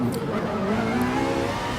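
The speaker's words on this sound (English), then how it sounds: "The engines are revving." Race car engines rev together on the starting grid in the GT Sport racing game, Ferrari 458s in a championship round, a dense droning roar with rising pitch.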